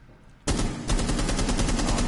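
Rapid automatic gunfire through a wall in a first-person shooter game bursts in suddenly after a quiet moment and keeps rattling loudly, with steady close repeated shots to the end.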